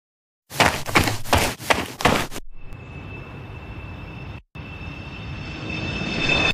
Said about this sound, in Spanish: El tren está ahí abajo.